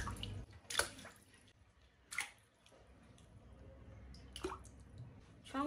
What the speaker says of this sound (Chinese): 做好之后给它放入清水中